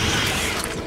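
A short mechanical clack and creak of a weapon being reloaded in Resident Evil 5, close and crisp, lasting under a second.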